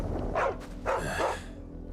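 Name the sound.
dog barking in Final Fantasy XVI video game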